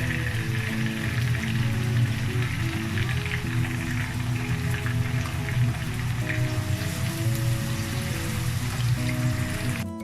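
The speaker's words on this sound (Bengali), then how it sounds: "এখন পেঁয়াজটা আমি কিছুক্ষণ হালকা ভেজে নিচ্ছি" Sliced onions lightly fry with salt and two bay leaves in a pan for Bangladeshi mung dal, giving a dense, even sizzle with crackling that runs steadily throughout, close and unaccompanied by talk.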